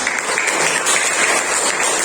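Children in a classroom clap together for a classmate, a brief burst of loud, close applause filling the whole moment.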